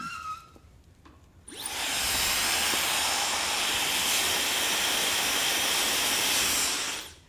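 A blow dryer switches on with a loud, steady rushing hiss of air close by, running continuously before cutting off at the end.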